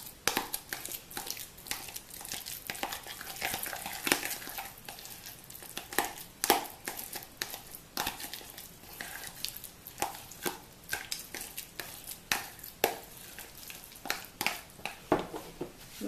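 Homemade avocado hair mask being stirred by hand in a bowl, giving repeated soft, wet scraping and clicking strokes in an uneven rhythm, close and fairly quiet, with no talking.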